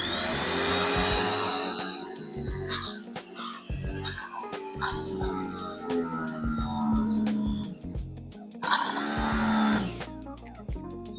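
A new pressure washer runs with a loud, harsh motor whine and spraying hiss that rises and drops in bursts, with brief pauses and clattering handling noises between.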